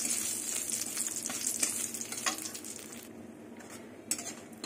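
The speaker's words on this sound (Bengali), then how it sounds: "শুকনো লঙ্কাগুলো ভেজে নেব, শুকনো লঙ্কাগুলো লাল লাল করে নেবো," Dried red chillies fry in oil in a pan with a steady, bright sizzle and crackle, occasional scrapes of stirring, close and continuous.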